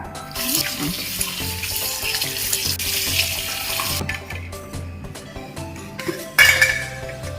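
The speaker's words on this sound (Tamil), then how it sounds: "இது நல்லா கழுவி எடுத்துக்கலாங்க" Tap water runs into a sink while raw chicken pieces are washed and fat trimmed, with clattering of dishes and pans and splashing that shifts midway, no talk.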